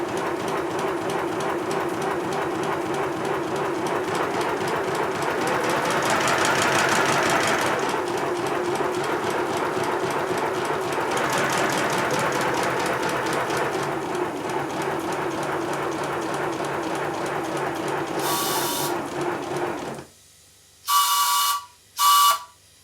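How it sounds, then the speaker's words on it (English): A model steam locomotive engine runs with a fast, steady mechanical chuffing and clatter, close and continuous for most of the stretch, then stops, followed by a few short sharp bursts of sound. "The engine's starting to run a lot better."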